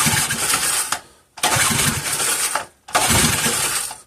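A Briggs and Stratton 3.5 hp small engine, set to run with the choke on, is cranked three times: three loud sputtering bursts, each about a second long, with brief quiet gaps between as it tries to catch.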